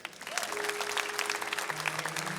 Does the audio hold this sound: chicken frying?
no